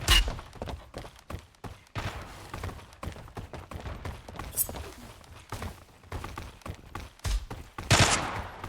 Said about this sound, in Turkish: Oğlum kim sıkıyor? Bizim adam mı sıkıyor?